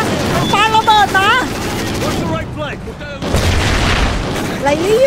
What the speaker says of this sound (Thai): ปังปังระเบิดนะ